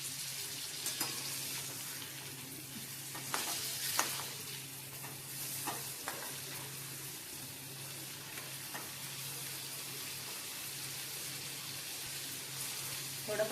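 Large prawns sizzle steadily in a frying pan as they are turned over, with a constant hiss broken by a few scraping, clattering knocks from the flipping.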